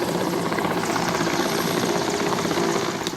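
Rescue helicopter hovering close overhead during a river airlift in stormy wind, a steady loud rotor roar with continuous thudding blade chop that holds throughout and eases slightly at the end.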